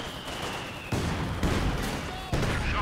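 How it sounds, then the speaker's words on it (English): Soviet ZiS-3 field gun barrage in a World War II real-time strategy game, several heavy thudding shell impacts landing in quick succession over continuous battle noise and gunfire, loud and close. "Oh, nice Zis barrage."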